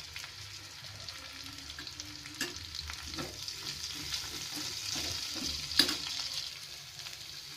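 Curry leaves and green chillies frying in oil for kara pongal, a faint steady hiss with occasional soft stirring knocks and one sharper clink, quiet and close with no voices.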